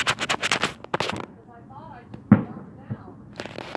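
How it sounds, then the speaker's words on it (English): Fireworks show in Powell, Ohio, with several booming bursts and crackling pops at varying distances, heard amid a crowd and people talking nearby. "this is my first fireworks show of the year"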